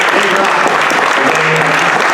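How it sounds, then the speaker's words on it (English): A crowd claps steadily and loudly throughout at a North Country young professionals' event, honouring board members with continuous dense applause that never thins out. "Give these people a round of applause because"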